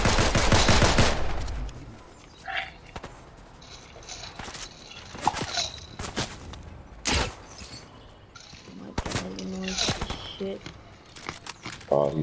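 DMR rifle fire in Fortnite, a loud opening burst followed by scattered single shots and impacts amid game effects, while players talk over it.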